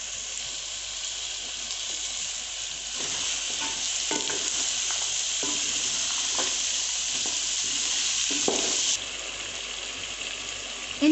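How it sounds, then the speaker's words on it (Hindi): Peas and bell pepper fry in a pan for a mixed vegetable curry, a steady loud sizzle running throughout with repeated scraping stirs and clanks of the spoon against the pan, no voices. "पहले इनको थोड़ा सा फ्राई कर लेंगे।"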